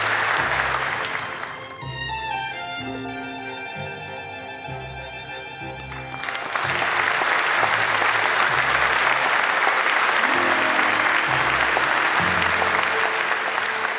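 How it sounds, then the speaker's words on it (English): Audience applause at an award presentation ceremony fills a large hall, a dense steady clatter of many hands with a short dip in the middle, and music comes in under it. "please join me in congratulating him with your warm applause"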